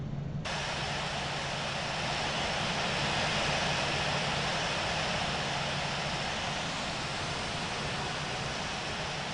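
An Alaska Airlines 737-9 taxis in the Infinite Flight game, its jet engines making a steady, loud, broadband roar with a faint low hum, continuous and unchanging throughout.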